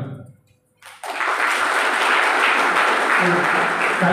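A college audience of students breaks into dense, steady applause after a short pause, the clapping loud and continuous through to the end.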